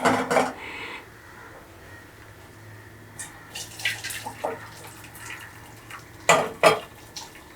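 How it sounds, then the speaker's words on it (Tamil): Hibiscus flower essence water strained through a filter while making hibiscus halwa, with soft clinks of a pot and utensils, a brief trickle, and two sharper knocks near the end. "இப்போ இதை நம்ம ஃபில்டர் பண்ணி எடுத்துக்கலாம்."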